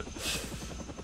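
Helicopter rotor drone from Shaun White Snowboarding on Xbox 360, a steady droning whir with a brief brighter swell, continuous and fairly loud across the short moment with no talk.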